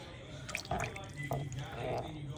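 A spoon stirs coconut milk into a pot of vegan Hungarian mushroom soup, making soft liquid swishes and light drips over a low steady hum.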